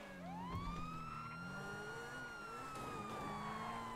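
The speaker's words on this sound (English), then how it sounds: "You can turn the siren off" Police car siren wailing steadily and loudly throughout, its pitch sweeping slowly up and down over the hum of the vehicle, with no talk.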